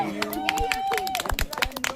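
A few people clap briefly at a sister's anniversary celebration during an outdoor family picnic, a short patter of hand claps following a stretch of talking voices.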